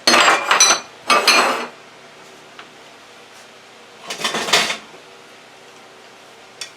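Mixing bowls for chocolate chip cookie dough being set down and handled: three bursts of clattering, clinking bowl contact separated by pauses, close and fairly loud, with no voices.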